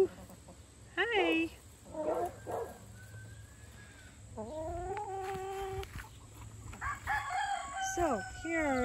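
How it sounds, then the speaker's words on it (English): Backyard chickens clucking and a rooster crowing in a summer permaculture garden, with a dog barking in the background and a person talking nearby. "Here's some of our chickens."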